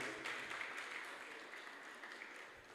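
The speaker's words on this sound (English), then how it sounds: "Please clap and as we welcome them, please." Conference audience applauding in welcome as speakers are introduced: steady, dense clapping from a crowd, moderately distant and sustained throughout, with no talk over it.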